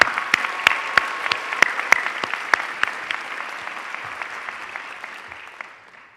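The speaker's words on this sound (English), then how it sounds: "Let's give a round of applause to everybody." A graduation ceremony audience at a pharmacy school breaks into applause, a crowd of distinct claps near and far, steady at first then gradually thinning and fading toward the end.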